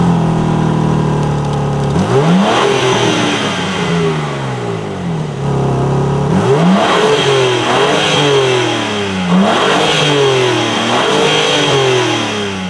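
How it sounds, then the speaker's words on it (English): A 2022 BMW M4 Competition Coupe revs from idle through its exhaust with blacked-out tips, rising and falling in repeated loud, close blips separated by brief idle pauses, with no talking. "To be honest, it sounds all right when you're revving it up. Not too crazy loud."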